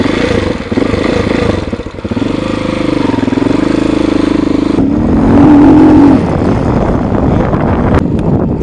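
A 2019 TaoTao TBR7 230cc dual-sport motorcycle engine runs steadily with its air filter cover removed, a close, continuous drone that rises briefly in pitch midway, with wind buffeting the microphone.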